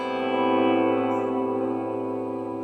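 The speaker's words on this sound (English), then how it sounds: "If I have that particular volume pedal swell going, I can put a lot of reverb on it" A Telecaster electric guitar chord swells in through a volume pedal and hangs under heavy reverb, a sustained, spacey, atmospheric tone that holds steady and fades slightly, with no talk.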